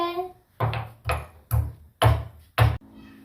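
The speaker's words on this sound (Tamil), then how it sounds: "சின்ன துண்டு இஞ்சி எடுத்து தட்டுங்க." A small piece of ginger is pounded for tea, five firm, evenly spaced thuds close by, each with a short ringing decay, after a brief spoken phrase at the start.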